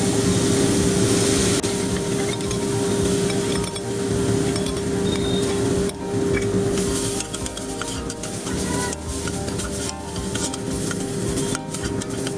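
Ginger and garlic paste frying in a pan for a Bengali doi murgi, a steady close sizzle with spatula scrapes and clinks running throughout.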